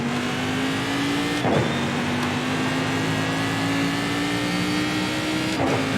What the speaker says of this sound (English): Get all the downshifting done.